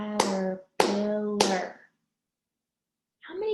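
Hands clap out the four syllables of the word "caterpillar" in a children's syllable-counting lesson, heard as three sharp, close, evenly spaced claps followed by a pause and the start of a fourth.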